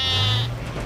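In a French cartoon, children's voices imitate sheep bleating: one loud, close, wavering bleat that fades out at the end, with nothing else heard.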